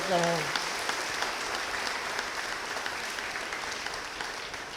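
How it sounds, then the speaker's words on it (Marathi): Applause from a church congregation for a visiting priest at a novena service in Manori, a steady wash of clapping that starts loud and carries on evenly, with a brief voice at the very start. "तर फादरांना 2 टाळ्या जोरदार द्या"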